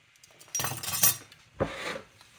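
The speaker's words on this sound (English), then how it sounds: "Just get everything mixed up in there so it's all blended with the oil and the butter." A utensil clinks and scrapes around a bowl while shrimp marinade is mixed with oil and butter, two short bursts of stirring, close and moderately loud.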